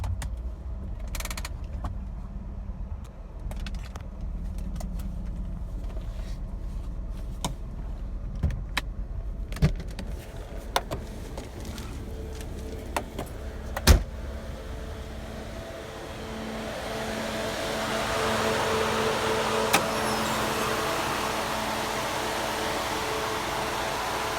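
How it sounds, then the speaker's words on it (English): A Mercedes-Benz W124 with an M104 or M103 engine drives uphill with the air conditioning on, a low steady engine drone heard from inside the cabin, with scattered clicks and a rising broadband rush toward the end. "That's with the AC on going uphill."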